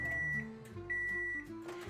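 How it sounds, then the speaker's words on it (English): Microwave oven running with a spaghetti squash inside, a steady electrical hum with a faint tonal whine, brief and moderately quiet. "just going to put it in the microwave for 3 to 5 minutes with the pricked side facing up"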